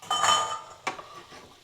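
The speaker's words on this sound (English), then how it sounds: "So it's time to add my potatoes now." Potatoes tipped into a pan of browned onions and cooked spices for an aloo brinjal achari, giving a short clattering rattle and then a single sharp clink of metal on the pan.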